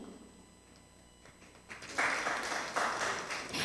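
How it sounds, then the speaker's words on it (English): Applause for the speakers at an online forest conservation webinar, starting faint and swelling to a steady, moderately loud round of clapping over the last half. "Let's give them a well-deserved round of applause."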